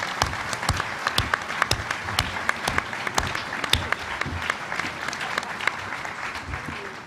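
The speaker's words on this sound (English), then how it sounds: "Please give them a round of applause." A luncheon audience at the National Press Club applauds the guests with sustained, sharp clapping. Individual loud claps stand out over a dense crowd wash that stays fairly even throughout.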